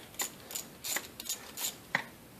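A ratchet wrench clicks in short bursts while snugging up intake manifold bolts on a 3.8L Caravan engine, six quick, close ratcheting strokes with brief pauses between them.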